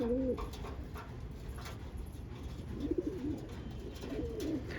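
Pigeons coo softly in a short series of rolling calls, fairly faint against a light background murmur.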